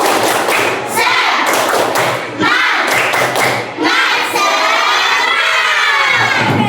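A primary school class (grade six) performs a rhythmic spirit clap, loud group clapping in bursts with children's shouts and cheers mixed in, close and energetic.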